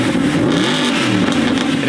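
A Mercedes SLS with its stock exhaust and a custom carbon fiber wide body revs close by, a loud, continuous engine note rising and falling over a couple of seconds.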